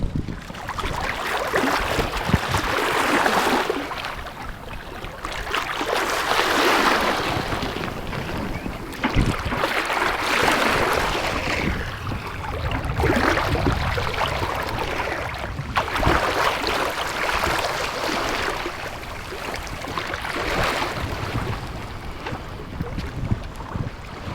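A sailboat crossing the open Pacific gives a continuous rushing wash of water and wind, swelling and easing in long waves, loud and close with no voices.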